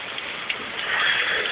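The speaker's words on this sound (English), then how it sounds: "So we gonna fall back, let this rain dry right quick" Rain falls in a steady, close patter of drops on a surface in bad weather, brief and unbroken, with no thunder and no voices.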